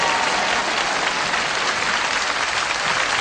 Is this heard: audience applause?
yes